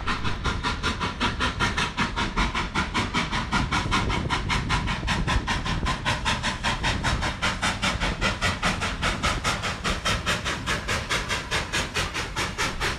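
Durango-Silverton Narrow Gauge Railway steam train rolling steadily, a regular rhythmic clatter of wheels over rail joints with hissing, loud and close, continuing evenly without voices.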